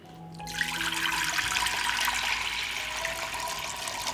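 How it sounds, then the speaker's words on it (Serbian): A litre of water gushes steadily into a cooking pot, starting abruptly and running as a loud, continuous splashing pour close by. "U šerpu ću sipati litar vode."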